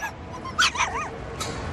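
Dog giving a few short whimpers and yips, fairly close and clear against a quiet background, with a brief rising whine in the middle and a last yelp near the end.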